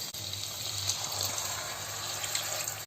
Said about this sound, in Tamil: மட்டன் கூட வேக வச்ச தண்ணியை நம்ம வந்து விடுவோம்